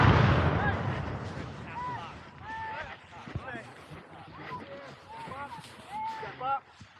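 American Revolutionary War reenactors fire a ragged musket volley outdoors, with booming reports rolling and echoing over the field amid shouted commands and crowd noise.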